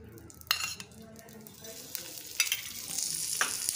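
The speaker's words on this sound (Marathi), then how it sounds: "परत थोडंसं भाजून घेऊ." Sweet corn kernels roasting in a spoonful of oil for a sweet corn chaat, a continuous sizzle broken by several sharp scrapes and stirs of a utensil against the pan.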